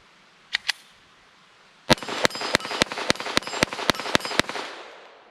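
Ten gunshots from a Taurus TX22 pistol on an outdoor range, fired in a fast, even string after two earlier cracks, each report loud and sharp with a trailing echo.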